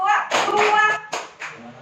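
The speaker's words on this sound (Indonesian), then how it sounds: "kita tepuk dulu kayak kemarin ya" A classroom of children claps together on cue at an Indonesian primary-school lesson, a few short bursts of sharp claps separated by brief pauses, close and loud, with children's voices mixed in between.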